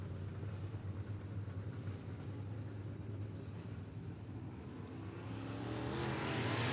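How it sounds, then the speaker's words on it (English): A late model race car laps Beckley Motor Speedway, its engine a steady droning roar that holds through the turn and then climbs in pitch and volume as it accelerates toward the end. "Trent Salongo, a street stock champion, his first time in a late model here tonight at Beckley Motor Speedway, slides it up into turn number 1."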